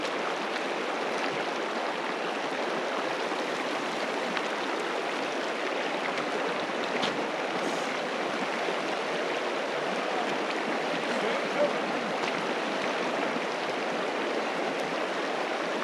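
A river rushes steadily near the Puruogangri ice field in Tibet, a close, even wash of flowing water that continues unbroken with no voices.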